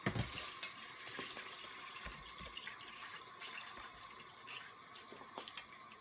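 Cold water is scooped and poured to fill a homestead water distiller, a steady close splashing and trickling that carries on without pause and has no talking over it.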